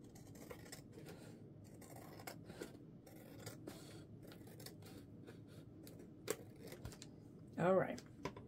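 Scissors trimming paper for a junk journal: a quiet run of small snips and rustling paper sounds, with a brief louder rustle near the end, heard close and faint.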